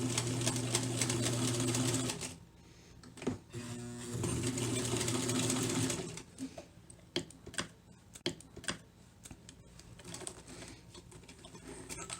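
A sewing machine stitches a fabric thread catcher in steady motor bursts, pausing briefly and running again, then followed by scattered light clicks and handling noises nearby.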